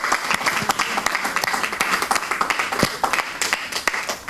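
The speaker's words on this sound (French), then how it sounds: "On peut l'applaudir." Close, lively applause from an audience after an interview event, uneven clapping with distinct individual hand claps standing out above the crowd.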